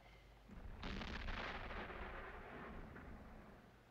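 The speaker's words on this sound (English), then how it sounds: "That could be cannon fire." Distant cannon fire booms low and muffled, a deep rolling rumble that swells, then slowly trails off, faint and far away with no voices over it.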